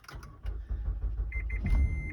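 A car engine turns over sluggishly with a low rumbling crank during a starting system check, while a few short electronic beeps chime in the background near the end.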